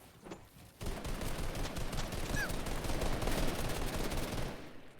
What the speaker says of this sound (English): There's still 2 other players possibly from that team opening fire upon them